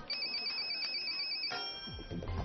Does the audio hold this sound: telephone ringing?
yes